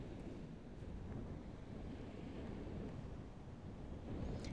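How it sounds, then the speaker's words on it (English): Wind buffets the microphone over choppy sea surf at the shore on a very windy day, a steady, dense roar of rushing air and broken water with no voices. "It's a very windy day, so the water is quite choppy"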